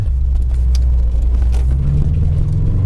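Subaru fitted with a Gruppe S header and Invidia N1 exhaust cruising in sixth gear around 40 mph, a loud, steady low exhaust rumble close up with no talking.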